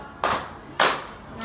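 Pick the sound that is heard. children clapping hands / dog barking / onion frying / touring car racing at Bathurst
children clapping hands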